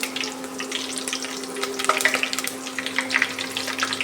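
Curry leaves dropped into hot oil already crackling with mustard and cumin seeds, a close, light sizzle with scattered pops and crackles over a steady low hum, no talking.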